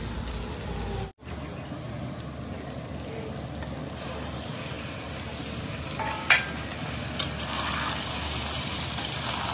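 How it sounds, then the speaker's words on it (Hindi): Onions for a desi mutton curry fry in a pan while being stirred, a constant loud sizzle close by with a couple of sharp scraping clinks from the spoon against the pan. "चलिए तो इधर देखिए हम लोग का प्याज पूरा भुंजा गया है"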